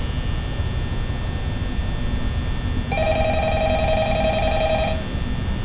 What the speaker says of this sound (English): Pick up the dang phone already.